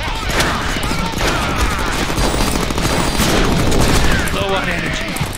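Rapid gunfire in the Deadpool video game, dense overlapping shots and bursts at a loud level throughout, with faint voices under the shooting.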